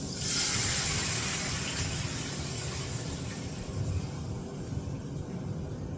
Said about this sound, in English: Then add 2 cups of milk into the mix.